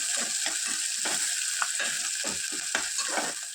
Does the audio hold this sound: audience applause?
no